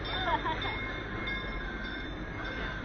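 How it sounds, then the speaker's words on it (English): A train rolls past at Knott's Berry Farm amusement park, a steady close rumble with faint squeals, heard briefly alongside riders' voices. "We're racing the train."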